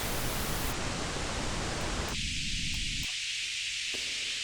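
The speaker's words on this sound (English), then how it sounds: "I'm going to bounce over to a noise source" Loud, steady broadband hiss from a noise source through an EQ shelf, whose tone abruptly shifts as the high and low ranges are cut away in steps, leaving thinner, muffled noise.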